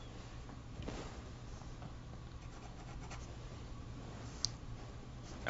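Charcoal pencil moving lightly and softly across paper in a drawing, giving a faint, close scratchy whisper of short strokes, quiet and steady, with a small tap at the end.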